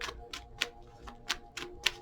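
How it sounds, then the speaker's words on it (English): Tarot cards are shuffled, giving a run of crisp, quick riffling clicks in a loose rhythm of about seven bursts, close and clear with no talk. "you guys can't see the cards and see me shuffling"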